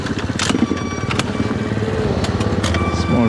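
A Yamaha YZ 125 two-stroke dirt bike engine runs close by with a steady, loud raspy drone and a few sharp clicks and knocks over it.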